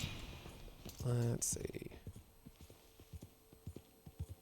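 Horse hooves clip-clop in the western video game Red Dead, a steady, moderately paced run of hoofbeats under a brief in-game tone and a few words of speech.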